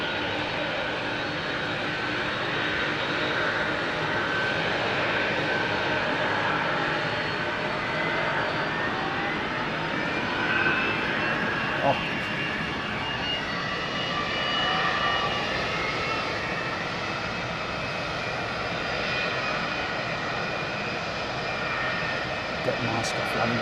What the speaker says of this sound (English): Early rotate for the 777-200 Air Canada